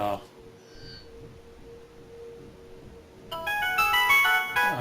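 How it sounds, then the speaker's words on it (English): A mobile phone ringtone chimes in with a bright repeating melody in the last second and a half, loud and close, after a quiet stretch of low hum. "there's my phone."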